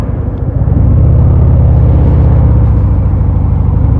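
A car overtaking a 2023 Harley-Davidson Sport Glide 107 on the road, a loud low engine rumble and road roar building and holding steady close by, heard from the rider's position.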